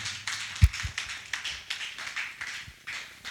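Church congregation clapping rhythmically in acclamation of the Lord, a steady run of quick hand claps with one sharp louder clap early on, no talking.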